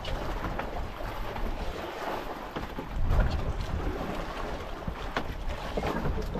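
Amihan northeast monsoon wind blowing steadily at sea from a boat, a broad roaring rush with gusting swells and water noise, no talk.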